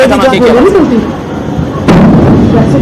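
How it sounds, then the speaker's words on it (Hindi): A sudden explosion booms in Jammu near the airport during a drone attack on India, striking as a sharp, loud burst partway through and cutting across a news reporter's ongoing talk. "ये धमाके की आवाज भी आप सुन सकते हैं।"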